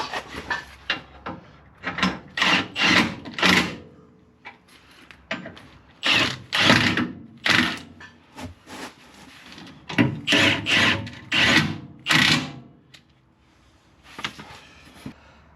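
Ratchet tightening transfer case bolts on a Jeep Wrangler JKU, heard as close, loud bursts of rapid clicking strokes in several separate runs with short pauses between them and no talk.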